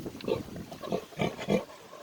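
An older sow with day-old piglets grunts in a series of low, close, rhythmic snorts, moderately loud, with a person speaking softly nearby.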